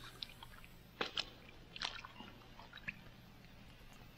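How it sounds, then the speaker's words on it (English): Wet, squishy chewing-like sounds inside the video game The Witness, a few brief soft crunches and squelches scattered over a quiet background hum. "Sounds like a guy chewing"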